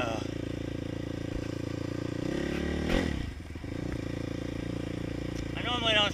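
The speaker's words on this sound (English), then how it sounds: "sometimes when I go from first to second, power shifting it, it gets a false neutral" A motorcycle engine runs steadily close to the rider, whose engine note dips and surges around a shift from first to second gear that can drop into a false neutral, with clattering and a brief whine near the end.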